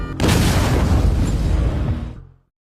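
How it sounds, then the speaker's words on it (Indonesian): Military truck blown up in a war film, one huge roaring blast that rumbles heavily for about two seconds and then cuts off sharply into silence. "seketika mobilnya meledak"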